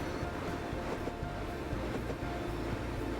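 A train in the video game Train World runs along its rails with a continuous rumble and soft rhythmic clatter, steady and moderately loud with no talk over it.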